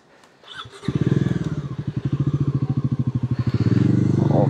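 A motorcycle engine idling while stopped on a touring ride near Gangtok, starting with a quick blip, then settling into a loud, close, evenly pulsing idle throughout.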